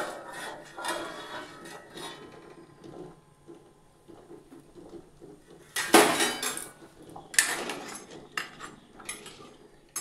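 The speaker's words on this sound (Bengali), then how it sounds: "এখন ডিমের ঢাকাটা খুলে নিচ্ছি" A metal lid comes off a pot of boiling eggs with a couple of sharp clanks and clinks amid quieter kitchen rattling, the loudest hits arriving close together near the middle.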